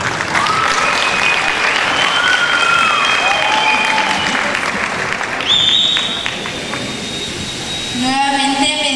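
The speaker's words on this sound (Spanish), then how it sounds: "La recibimos con un fuerte aplauso." Crowd applause at the election and crowning of a local queen in San Lucas Sacatepéquez, steady and fairly loud throughout, with whistling tones sliding over the clapping and a brief voice near the end.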